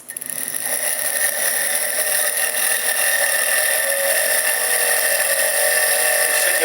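A small 6-volt electric motor with strong magnets spins at high speed, making a steady, bright whine with a buzzing edge that rises and holds for several seconds, close and alone.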